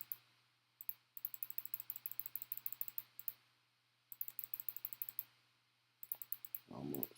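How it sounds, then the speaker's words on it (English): Rapid bursts of computer mouse or keyboard clicking while scrolling through a legal index, steady close clicks in several runs separated by short pauses, with a brief louder knock near the end. "A lot of clicking here."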